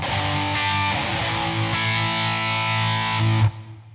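A distorted electric guitar tone runs through a Kemper Profiler into in-ear monitors, with sustained, dense chords ringing for about three and a half seconds before cutting off abruptly.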